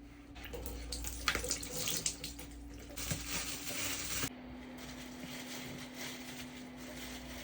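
Tap water runs steadily into a sink or tub during a hair rinse, a continuous splashing stream with some louder bursts early on, then a smoother, quieter flow.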